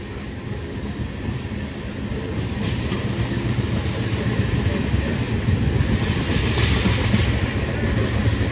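A train rolls past on the tracks, a loud, steady rumble with a faint clickety-clack from the wheels that builds slightly as it continues.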